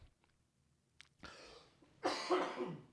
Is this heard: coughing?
yes